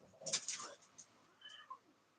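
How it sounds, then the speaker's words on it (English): Faint cats yowling and meowing outdoors in a quarrel, a few drawn-out cries rising and falling at a distance. "there are cats out there. I hear them. What they're arguing too."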